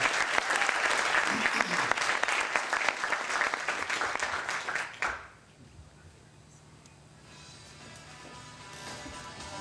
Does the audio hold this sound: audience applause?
yes